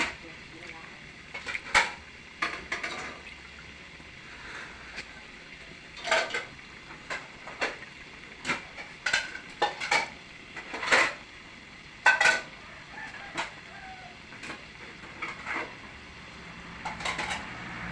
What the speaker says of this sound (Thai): ผัดกะเพราครับเช้านี้กับข้าวแซ่บๆ ผัดกะเพราครับ